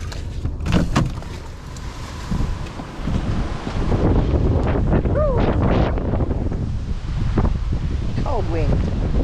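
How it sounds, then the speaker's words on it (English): Cold wind gusts across the microphone at Trentham Falls in Victoria, a loud steady roar with buffeting under faint background sounds. "Cold wind."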